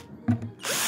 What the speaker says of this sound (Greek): και με ένα τρυπάνι